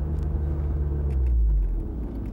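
A Mazda RX-7 convertible with four-wheel disc brakes and no ABS brakes hard from speed, a close low engine and tyre rumble swelling and then dropping as the car comes to a stop.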